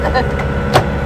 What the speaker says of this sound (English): Sorry for the engine noise.